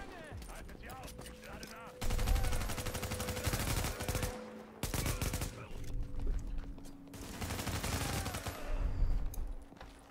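Bursts of automatic gunfire in The Division, a third-person shooter, including a G36 rifle, firing in several sustained volleys from about two seconds on, loud and close, with brief pauses between bursts.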